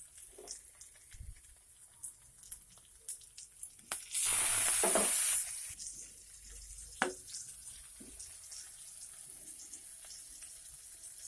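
Tomato and spices go into a pan for a chicken mince curry, setting off a sudden loud sizzle for about two seconds amid quieter stirring and scraping clatter.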